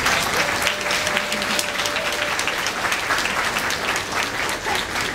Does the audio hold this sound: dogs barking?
no